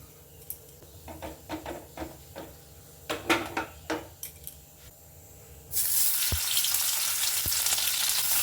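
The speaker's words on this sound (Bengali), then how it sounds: "সর্ষের তেল দিয়ে পনিরগুলোকে ভালো করে ভেজে নেব।" Paneer hits hot mustard oil in a wok. Sharp clinks and taps come first, then a loud, continuous sizzle erupts and holds, with a few utensil knocks.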